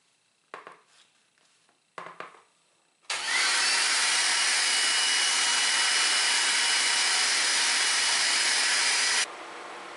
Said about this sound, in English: We now have the handle rough shaped on the grinder